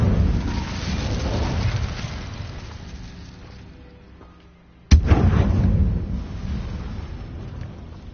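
An Incendio fire spell in Hogwarts Legacy: a roaring fiery rush slowly fades, then a sharp, loud blast erupts and rolls on into a sustained crackling roar.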